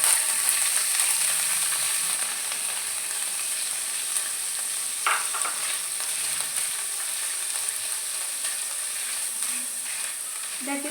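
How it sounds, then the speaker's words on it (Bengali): Chhana (cottage cheese) pieces frying in hot ghee while being stirred, giving a steady broad sizzle throughout with a few louder crackles and spatters. "এটাকে ছানাটাকে আগে ভালো করে নাড়াচাড়া করে নিতে হবে ঘিয়ের মধ্যে।"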